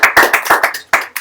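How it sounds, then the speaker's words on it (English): Several people at a live talk clap their hands in quick, uneven bursts, close and loud, like a short round of applause. "Give a round of applause to Sai."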